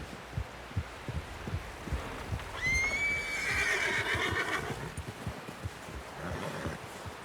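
A horse in Red Dead Redemption 2 gives a long, rising whinny over steady, rhythmic hoof clops close by, the hooves continuing before and after the neigh.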